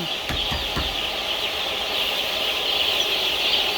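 Three-day-old broiler chicks peep steadily in a shed, a dense high chorus of many birds with a few short louder calls near the start, at a constant moderate level.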